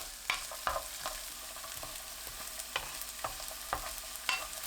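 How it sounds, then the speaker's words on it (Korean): Garlic frying in cooking oil in a pan over medium heat, with a soft steady sizzle broken by intermittent scrapes and taps of a spatula, close by but fairly quiet, with no talking. "팬에 식용유 3큰술, 마늘 넣고 중불로 1분 30초 볶습니다."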